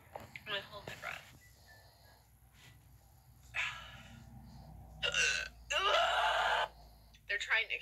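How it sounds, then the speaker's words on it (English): Hiccups from a girl sitting in a car: sharp, irregular vocal catches and gasps arrive in short loud bursts, separated by quieter breathing, with the strongest run coming near the end. "My hiccups are trying to kill me."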